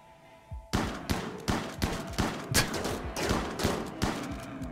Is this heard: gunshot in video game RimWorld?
yes